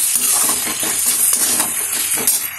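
Spices frying in oil in a pan while being stirred, a constant loud sizzle broken by regular scraping and clinking strokes of the spoon, no voices.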